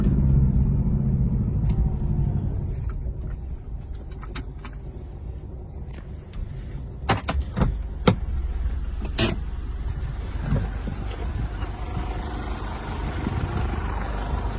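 A car drives across a farm toward a blackberry field, a steady, close engine rumble and road noise with scattered rattles and knocks as it rolls over uneven ground.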